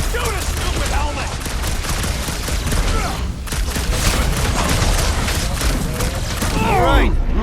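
Rapid gunfire in Marvel's Guardians of the Galaxy, a dense and loud barrage of shots that runs without pause under battle noise, while voices talk over it.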